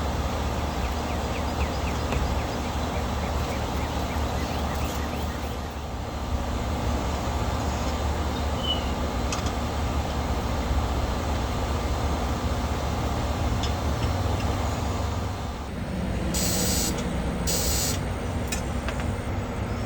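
A 1990 Bluebird bus with a turbo Cummins diesel engine cranking over with its injector lines loosened, a continuous loud mechanical churn that drops briefly near the end before resuming.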